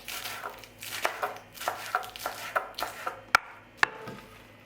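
A knife chops cucumbers and lettuce on a board in a home kitchen, about nine distinct, evenly paced chops, close and clear with no talking.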